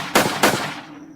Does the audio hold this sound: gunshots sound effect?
yes